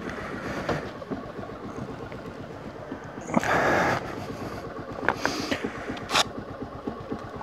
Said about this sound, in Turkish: Motor azıcık ısınsın tabii.